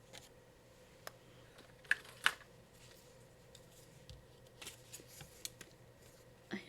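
Scissors cutting out paper stickers for a handmade card: a few soft, close snips and paper rustles scattered over quiet room tone, with no talk.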